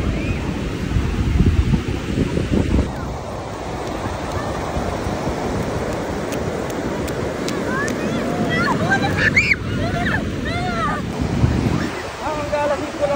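Sea waves wash in at Nielcam Baywalk Beach Resort in Lingayen, Pangasinan, a loud, steady rushing surf heavily buffeted by wind against the microphone, with faint voices in the background.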